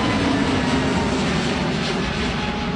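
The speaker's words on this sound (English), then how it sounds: "the rear exhaust adds that satisfying roar you hear during takeoff" A jet airplane's engines roar during takeoff, a loud, broadband rumble sustained evenly throughout before cutting off abruptly, with no talking.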